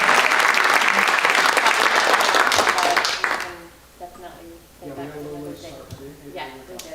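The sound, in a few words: audience applause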